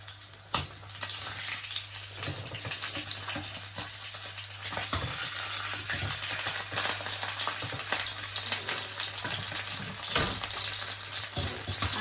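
Salmon sizzles steadily in a frying pan over low heat, a continuous crackling fry with occasional sharper pops and scrapes, close and fairly quiet, with no talking.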